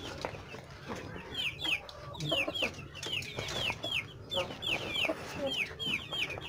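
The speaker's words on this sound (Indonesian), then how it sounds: "ayam yang orok." Sick chickens cluck repeatedly in short, rapid rising calls, close and fairly loud, over a rough, noisy background with some murmuring voices.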